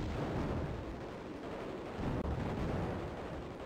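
A continuous rumbling explosion roars in the vertical shooter video game Raptor: Call of the Shadows, a dense, loud blast texture that swells briefly past its midpoint without letting up.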